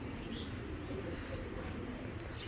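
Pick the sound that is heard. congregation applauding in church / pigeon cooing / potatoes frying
pigeon cooing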